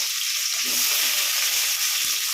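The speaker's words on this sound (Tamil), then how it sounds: "இந்த வைப்பா வெங்காயம் போடுறேன். வெங்காயம் ஒரு 4 பூண்டு." Onion and garlic sizzle steadily in hot oil with mustard seeds and dal, a dense continuous frying hiss that stays close and even, with a few soft stirring scrapes near the pan and no talk.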